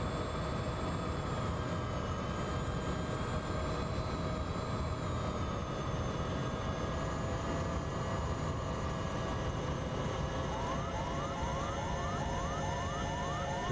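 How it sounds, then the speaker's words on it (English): Several alarm tones sound together in a Bell 412 helicopter cockpit, steady sustained warbling pitches with a repeating chirp pattern joining near the end, all over a constant engine drone. "There seem to be a few alarm bells going off"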